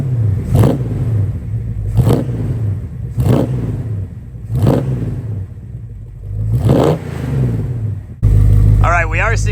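A 1968 Plymouth Barracuda with a performance 318 V8 revs repeatedly under throttle blips, about six rising surges roughly a second apart over a steady idle, close and loud, ending in a sharp clattery burst.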